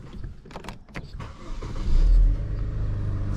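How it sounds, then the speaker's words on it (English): A 2011 Saab 9-5 engine cranks and catches, with a brief louder surge just after starting before settling into a steady running hum close by. "I'm going to turn the car on now."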